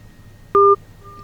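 A single short telephone dialing tone sounds clearly and alone, a brief two-tone beep during an attempted phone call for a radio interview with a former Ecuadorian president, set against a faint low hum.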